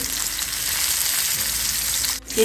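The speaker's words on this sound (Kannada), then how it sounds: "ಇನ್ನೊಂದು ಸೈಡ್ ಫ್ರೈ ಆಗಬೇಕು" Fish fries in a pan of hot oil, giving a steady, loud, close sizzle that holds throughout and dips briefly just before the end.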